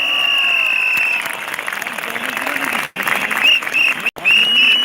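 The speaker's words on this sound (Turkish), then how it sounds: "Bir kuvvetli alkış yapalım meydanlara sığmayanlara" Large outdoor crowd at a retired military personnel wage rally in Tandoğan square, applauding loudly with a sustained roar, a tone ringing over it and a couple of brief dropouts.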